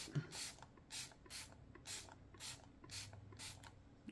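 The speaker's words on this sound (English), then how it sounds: "Yep, let's spray it." Seven quick, evenly spaced spritzes from a spray bottle, soft and close, with a faint background hum.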